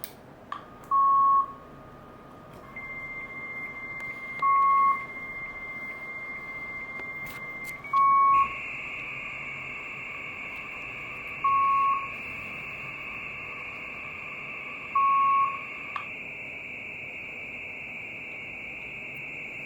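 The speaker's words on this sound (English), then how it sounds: "so you could hear the relay from the modem" A US Robotics Courier 56K modem dials out: five evenly spaced short beeps sound alone, under a steady pair of line tones and one long higher tone.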